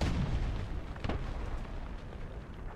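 A heavy explosion in War Thunder ground battle, a broadband boom around the one-second mark over continuous rumbling battle noise and distant gunfire, close and loud.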